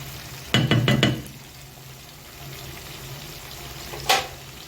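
Boiling water poured from a kettle onto chicken in a pot while cooking kabsa: a burst of close splashing and sizzling near the start, then a low simmering hiss and one more brief splash near the end.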